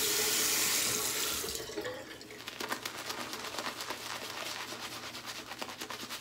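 Water from a tap runs onto a shaving brush at a sink, a steady loud splashing stream that then breaks into lighter, uneven trickling and dripping.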